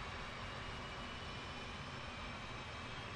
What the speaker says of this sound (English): you can left click, get the left engine crank going